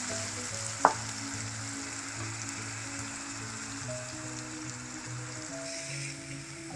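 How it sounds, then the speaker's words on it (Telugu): Onion paste frying in oil on a low flame for a paneer gravy, a steady close sizzle with crackling throughout and one sharp clink near the start. "వేసుకొని పచ్చివాసన పోయేంత వరకు కొంచెం సిమ్లో పెట్టుకొని కొంచెం డీప్ ఫ్రై చేసుకోవాలి."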